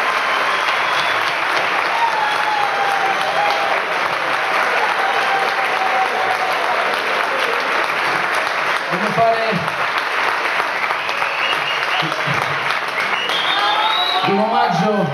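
A concert crowd at a 1989 live show in Perugia claps steadily and loudly throughout, with a few voices and cheers poking through the ovation.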